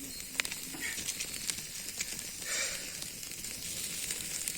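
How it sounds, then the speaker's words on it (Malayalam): Marinated chicken sizzles on a grill, a soft, steady hiss and crackle up close with small pops and faint background clatter, no voices. "അത് കഴിഞ്ഞിട്ട് നമ്മളിത് ഗ്രില്ലടിച്ചുകൊണ്ടിരിക്കുകയാണ്."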